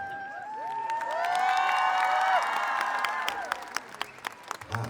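Concert crowd at a show applauds and cheers, with the clapping and shouting swelling to a dense, sustained roar before thinning into scattered claps.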